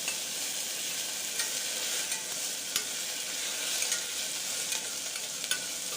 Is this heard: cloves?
yes